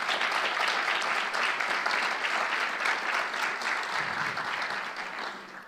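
Church congregation applauding strongly, a dense sustained wash of clapping from many hands that slowly tapers toward the end.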